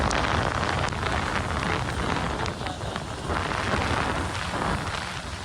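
Heavy rain pouring outdoors in Gagret during a monsoon downpour, a dense, loud, steady wash of noise with gusty wind buffeting the microphone throughout, no voices.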